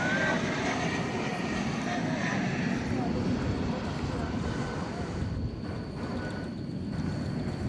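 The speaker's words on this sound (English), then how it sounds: "Our next arrival is coming in from Aspen, Colorado, flight 4854, CRJ 701 ER." A CRJ 701 ER airliner arriving at DFW Airport roars steadily in the distance, a broad engine rumble with wind buffeting the microphone and a person talking over it.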